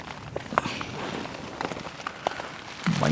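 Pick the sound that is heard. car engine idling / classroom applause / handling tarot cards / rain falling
rain falling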